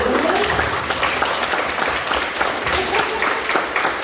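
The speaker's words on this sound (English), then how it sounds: "let's give a round of applause to all of you" A conference audience, gathered for a Hmong shaman and herb event, breaks into a steady, dense round of applause that holds at full strength throughout, with faint voices mixed in beneath the clapping.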